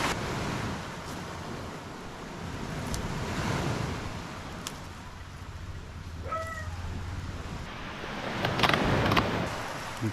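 Ocean waves at high tide after dark wash steadily onto a shore at Calatagan, a continuous rolling surf with gusts of wind and a brief faint animal call partway through.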